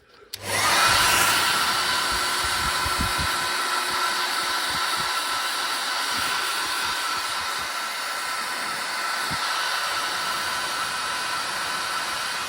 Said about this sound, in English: then we just hit it with a hairdryer